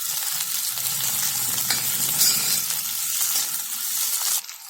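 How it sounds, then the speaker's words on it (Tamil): Chopped tomato and garlic cloves sautéing in a pan for sambar, a steady close sizzle with soft stirring scrapes, which suddenly drops away near the end, with no one speaking. "தக்காளி நல்லா மசிஞ்சு வர வரைக்கும் வதங்கட்டும்"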